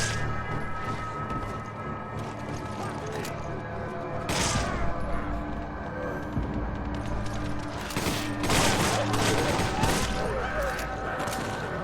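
Gunfire from an enemy in the Resident Evil 5 video game, a dense fusillade of shots and booms running throughout with louder bursts midway and near the end over a steady game soundscape.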